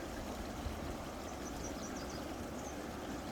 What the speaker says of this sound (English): That's where the water's coming out of.